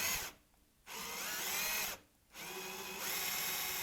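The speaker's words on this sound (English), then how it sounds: "I just drilled the truss rod access while I was there. just using a very long drill bit" A power drill with a very long bit bores the truss rod access hole in a wooden guitar neck, running in three loud, close bursts separated by two brief pauses.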